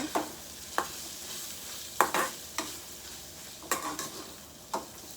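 Chopped green chillies fry in spices in a pan, a soft steady sizzle broken by repeated scraping and clinking strokes of a spoon stirring against the metal, with no talk.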